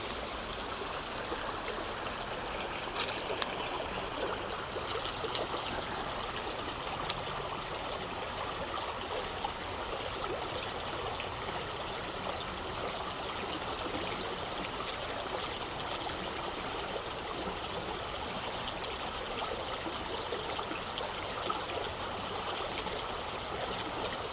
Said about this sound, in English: Get some good creek flowing water sounds here.